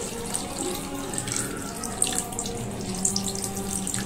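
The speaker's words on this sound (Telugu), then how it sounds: "మటన్ అనేది ఉడకడానికి నేను ఇక్కడ వాటర్ని అయితే 1 గ్లాస్ పోస్తున్నాను" Water being poured from a glass into mutton curry, a steady continuous splashing and trickling heard up close for several seconds.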